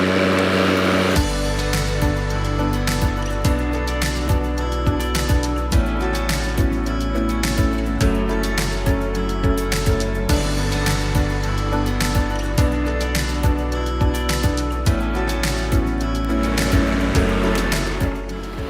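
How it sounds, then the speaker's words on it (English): A Cobra RM51SP80V 80V cordless self-propelled lawn mower starts up and runs steadily, its loud motor drone continuous with repeated rhythmic thumps and rustles as it cuts grass, with no talk. "We push the red button with one hand and then we pull back the lever and that will start the motor off"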